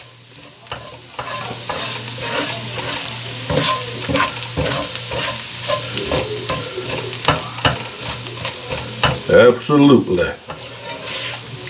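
Flour cooking in a pot for beef pot pie, stirred with repeated scraping strokes and a steady sizzle, close and fairly loud; someone says a single word near the end.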